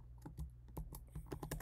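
Rapid keystrokes on a computer keyboard while coding in a code editor, a close, uneven clatter of separate clicks with brief pauses and no talk.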